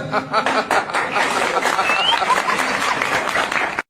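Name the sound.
audience applause after a phone call is cut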